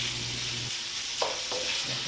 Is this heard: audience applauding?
no